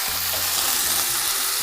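Steady, loud sizzling and crackling of food frying in a hot pan, continuous and close, with no voices.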